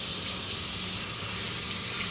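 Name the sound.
water running from tap while washing hands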